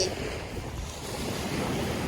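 Sea waves wash continuously onto a beach, with heavy wind buffeting the microphone in a constant rushing roar.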